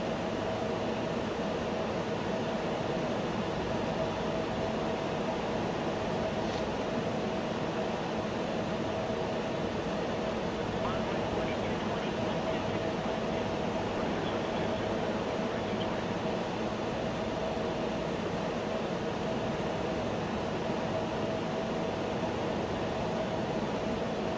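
A Bell 412 helicopter in a flight simulator game, fitted with a sound mod, gives off a steady, unbroken engine and rotor drone that holds at an even loudness the whole time, with no talk over it.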